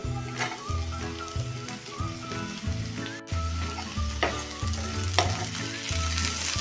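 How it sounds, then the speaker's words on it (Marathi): Tomato sautés in a hot pan with ginger, garlic and green chili. A loud, close sizzle runs throughout, broken by repeated rhythmic scraping strokes of a spatula stirring the mixture. "टोमॅटो पण आपण चांगला मऊ पडेपर्यंत परतून घेऊया"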